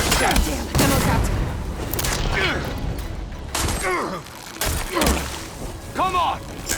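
Gunfire and heavy thumps ring out in a shooter game, In His Wake Burning Shores, with repeated bursts and impacts across the stretch while voices talk over the action.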